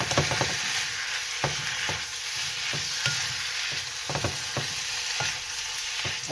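Kimchi fries in a pan for kimchi stew while a utensil stirs it, steady sizzling broken by frequent sharp scrapes and clacks at an irregular pace.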